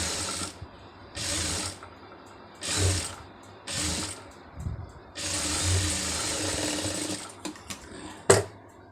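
A sewing machine runs a line of stitches along a quarter-inch folded cloth strip in repeated short bursts with pauses between them, followed by a longer steady run and a sharp click near the end.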